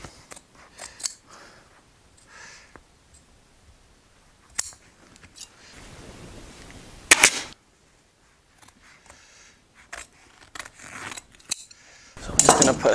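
Scissors snip into upholstery fabric on a curved chair, giving sharp, close cuts in scattered bursts, including a loud cluster in the middle and another at the end, separated by quiet stretches of faint handling noise.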